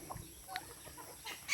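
Chickens in a backyard chicken coop cluck in a few short, soft bursts, close but quiet, with no talking.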